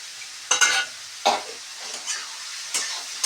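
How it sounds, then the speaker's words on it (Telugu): Spices such as bay leaf, peppercorns, cloves and cinnamon fry in hot oil for egg curry while being stirred. A soft sizzle runs throughout, broken by a few distinct scraping strokes of the utensil against the pan. "బాగా కలుపుకోవాలి"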